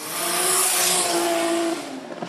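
A road-legal Nissan S15 street car drifting at a drift series event, engine held at high revs with a sustained rasping roar and hissing tire noise, loud and close, easing off near the end.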